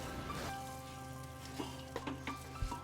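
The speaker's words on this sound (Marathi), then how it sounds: "आता यात टाकून घेऊ वॉश केलेला राईस आणि याला आता चांगलं एकदा मिक्स करून घ्यायचं" Washed rice being mixed in a hot pan makes a faint, soft sizzle with light scraping and a few small knocks as it is stirred, quiet throughout.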